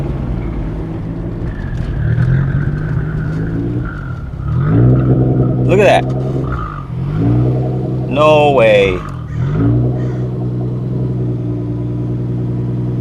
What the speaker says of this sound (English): the car is like hesitating bad